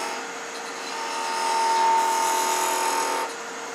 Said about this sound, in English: Now you're going to come in with a parting or captive ring tool.